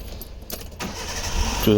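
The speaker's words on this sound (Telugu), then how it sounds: "బండి ఒకసారి ఇంజన్ కూడా స్టార్ట్ చేసి చూసుకోవచ్చు" A 2008 Hyundai Santro GLS petrol car is cranked and its engine catches, rising to a steady running hum after a jangle of keys; faint and under nearby speech at the start.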